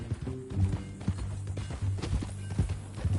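Horse hooves clop in Red Dead, a steady close run of thuds and knocks on the ground, with a brief whinny-like tone near the start and game ambience underneath.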